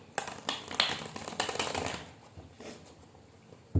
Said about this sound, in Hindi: मैं 3 कार्ड्स पुल करूँगी. अभी शफल कर रही हूँ.